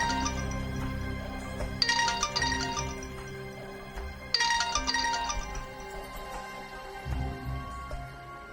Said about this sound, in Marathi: मी मनवाच्या आईला फोन लावून बघते.